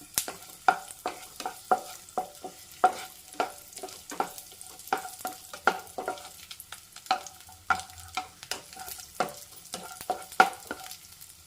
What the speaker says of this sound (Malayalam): ഈ സമയത്ത് നമുക്ക് റൈസിൻസ് അതും ഇട്ട് കൊടുക്കാം